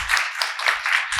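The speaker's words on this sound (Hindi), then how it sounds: "एक बार ताली बजा सकते हैं सब लोग" Audience applause in an indoor talk session in Ahmedabad, a steady burst of many hands clapping together, fairly loud and close, with no talk over it.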